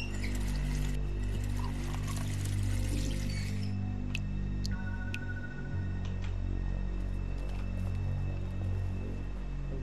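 Water pours steadily in The Wolf Among Us, a continuous trickling stream under a low game background hum, with a few small clinks.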